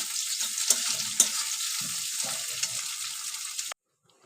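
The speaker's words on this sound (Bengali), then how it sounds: "এবার এই তেলের মধ্যে আমি একটু কুচি করে রাখা পেঁয়াজ দিয়ে দিলাম দিয়ে আমি এই জিনিসটা ভালো করে মিক্স করে নেব" Chopped onion sizzles steadily in hot oil while being stirred for a chicken curry, a bright crackling hiss with occasional scraping knocks of the spoon, then it cuts off abruptly.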